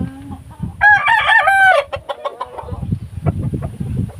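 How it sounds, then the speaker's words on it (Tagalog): A nearby fighting rooster lets out one loud crow, followed by scattered clucks and low rustling from fighting roosters. "Mga panabong na manok ni kuya"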